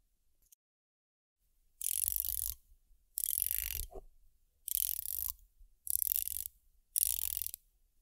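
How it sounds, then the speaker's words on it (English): A Seiko SPB143 dive watch bezel is turned by hand in five short bursts of soft, rapid ratcheting clicks, close and clear, with silent pauses between turns. "it does have that sort of softer clicks that a lot of Seiko bezels have"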